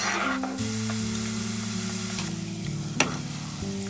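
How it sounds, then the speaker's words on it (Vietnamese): Hot oil sizzles and crackles steadily as lemongrass fries in a pot, with one sharp pop, heard under soft background music. "Dầu nóng thì mình cho sả vào chiên trước."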